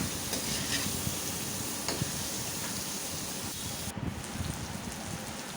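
Chopped onions sizzle steadily in hot oil with bay leaf, cloves, cardamom and cinnamon, browning for a fish bhuna; a continuous close frying hiss with faint stirring scrapes runs throughout, with no talk.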